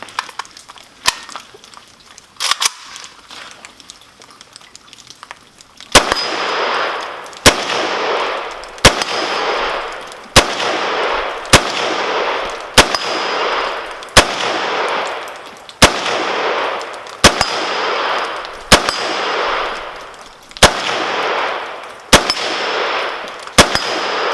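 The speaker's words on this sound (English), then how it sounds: "We're shooting some Golden Tiger. Got a little steel target out there, and we'll see what we can do here." A VEPR FM AK-47 fires Golden Tiger ammunition at a steel target outdoors: about a dozen loud single shots at a steady, unhurried rhythm, each followed by a sharp ring of the steel plate, with quieter handling before the first shot.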